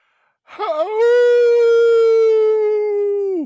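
A person imitates a wolf howl: a short wavering rise, then one long steady, sustained tone that fades off at the end.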